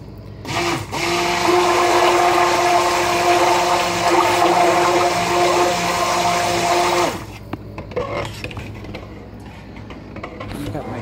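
A stick blender whirs steadily in olive oil for hot process soap, loud and continuous for about seven seconds before cutting off, followed by quieter handling noises.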